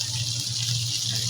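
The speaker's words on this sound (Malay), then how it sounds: "Tambah air sedikit, nanti kita ada kuah." Steady rush of water pouring continuously into a cooking pot of pumpkin, close by, with a low hum underneath and no voices.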